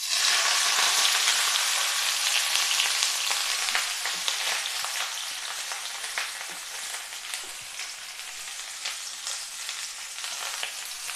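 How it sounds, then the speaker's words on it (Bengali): Pumpkin leaf parcels stuffed with prawns fry in about four tablespoons of hot oil, giving a loud, dense, continuous sizzle with scattered crackles that eases slightly as it goes on. "এবার তেল গরম হয়ে গিয়েছে। এবার পাতা ধরে, সাজানো পাতা ধরে আমি এটার মধ্যে বসিয়ে দিচ্ছি।"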